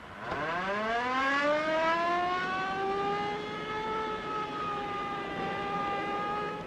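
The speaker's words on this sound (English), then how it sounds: "Step on that siren." A 1938 police car siren winds up from a low growl to a loud, steady wailing tone and holds there, with no other sounds present.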